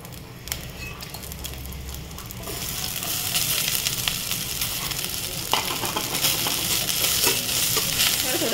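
Ghee rice is stirred in a pan as a tempering of ghee is added, with quieter scraping at first, then a louder, sustained sizzle and crackle under continued stirring; no talk.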